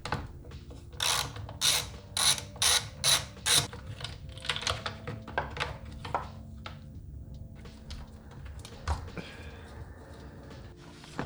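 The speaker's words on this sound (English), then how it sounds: "Now we open up the fuse box to remove the 10mm nut holding the starter wire." Ratchet wrench undoing the 10mm starter-wire nut in the fuse box of an MR2 during engine removal, with a run of about eight quick, close clicking bursts, then softer scattered ratcheting and rustling.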